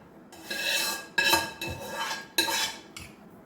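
Pounding chilli and sorrel-leaf chutney in a mortar, a few sharp, uneven hard knocks and scrapes, close by and fairly loud, with no talking.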